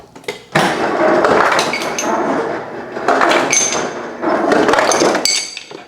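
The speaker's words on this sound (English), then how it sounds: "dispense the ice." Ice cubes clatter and clink loudly as they tumble out of a GE Profile refrigerator's ice dispenser in three bursts, close and rattling.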